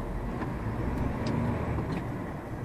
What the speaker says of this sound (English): That's just to help with any lorries coming through, like that guy there.